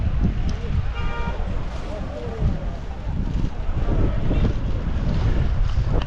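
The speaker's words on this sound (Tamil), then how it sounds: "ஸோ இங்கே செம்மையாக காற்றடிக்குது." Strong mountain wind in Sikkim near the Chinese border roars and buffets the microphone throughout, with a voice briefly audible beneath the blustery rumble.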